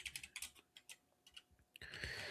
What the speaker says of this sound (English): Now I'm typing Clawdbot because I have Clawdbot installed